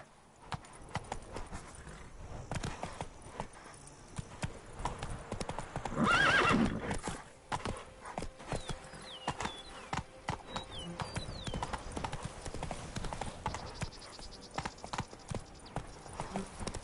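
Geralt's horse Roach in The Witcher 3 gallops with steady, rapid hoof clip-clops throughout, a loud whinny in the middle, and a voice speaking over the game sound.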